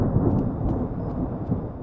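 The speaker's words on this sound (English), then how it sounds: "Oh god, I hate thunder so much." Thunder rumbles in the horror video game Evil Nun, a deep continuous rolling roar with faint higher crackles, steady and fairly loud throughout.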